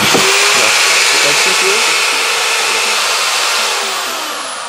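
An electric drilling machine switched on through a Wi-Fi smart switch runs with a loud, steady whine and broadband roar throughout, fading slightly toward the end.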